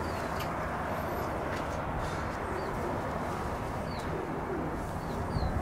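Pigeons coo and flutter faintly inside an abandoned grain elevator, their soft calls scattered over a steady, hollow wash of background noise with no talk.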